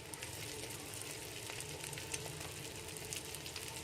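Green chilies, cabbage, capsicum and carrot stir-fry in a pan for street-style egg fried rice, giving a faint, even sizzle with light scraping, quiet and continuous with no voices.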